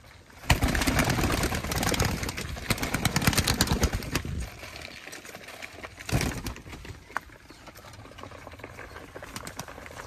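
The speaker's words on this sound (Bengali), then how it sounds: "এগুলো একেবারে উপরের পিওর পুরনো জাতের চট কবুতর" Chot pigeons, an old pure breed, are being fed. Heavy wing flapping and scuffling rise in a dense burst for the first few seconds, then settle into softer pecking and shuffling, with another brief flurry midway.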